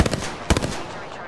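Bursts of automatic gunfire in a battle royale video game, a rapid volley at the start and another sharp burst about midway, loud and close, with a noisy rumble trailing between them.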